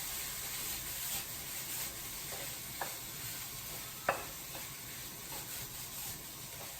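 Turkey mince stir fry cooking in a pan, a steady broadband frying sizzle with faint stirring scrapes and a couple of brief sharp clicks, continuous and close, with no talking.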